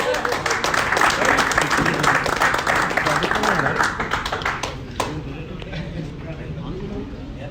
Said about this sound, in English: Please, with a round of applause, let us welcome Shefali ji